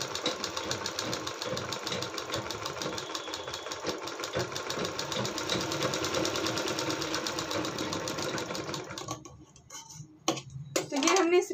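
A sewing machine stitches saree fabric onto the back neck of a blouse in a steady, fast mechanical ticking run, then stops near the end, followed by a few quieter handling clicks.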